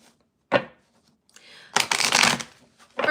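Playing cards being shuffled up close: a quick flick, a soft riffle, then a longer fluttering burst of cards.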